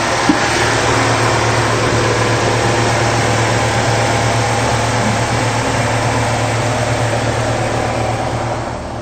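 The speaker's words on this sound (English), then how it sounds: "The generator is very quiet." A Westerbeke 3.0 kW marine generator runs aboard a Bayliner 28 with a steady, even engine hum and broadband whir, loud and close, unchanging throughout with no voices.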